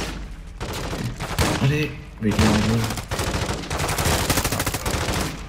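Rapid automatic gunfire from Call of Duty Modern Warfare 2 in the woods of Las Almas, Mexico, rattling in loud bursts with short pauses, a brief exclamation from a player between volleys.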